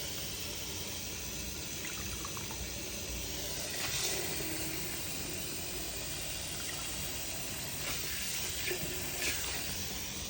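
Leafy greens being washed under a running tap in a home kitchen to rinse out sand, a steady rushing stream of water with brief splashes and clatters as the leaves are handled.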